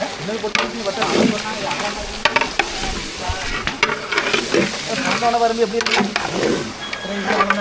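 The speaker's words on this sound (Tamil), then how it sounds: "இப்போ வந்து சிக்கனை வந்து மசாலா கூட சேர்த்துக்கலாம் மசாலா கூட சிக்கன் நல்லா கலந்துக்கலாம்" Chicken is stirred into masala in a hot pan, giving a sizzling fry under repeated scraping and clattering stirs. The sound is close and fairly loud, with some voice in the background.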